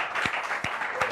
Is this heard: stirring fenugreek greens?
no